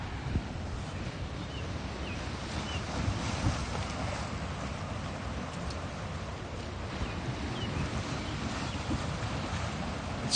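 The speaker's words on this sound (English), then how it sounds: "A little bit of ocean." Ocean near the shore at Newport, Rhode Island: a steady low wash of water and wind fills the scene, soft and continuous, with no voices.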